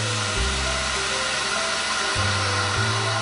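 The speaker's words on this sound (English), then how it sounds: "degas the mixture. This is something else you do with a vacuum machine." A Henkelman vacuum packing machine degasses a crème anglaise mixture, a loud, steady mechanical whir and hum whose low pitch shifts and steps a few times, heard alone without talk.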